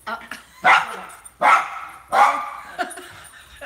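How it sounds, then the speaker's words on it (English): A dog barks close by in three loud, evenly spaced woofs, followed by a softer yip, with little else around. "The dog's going to be barking."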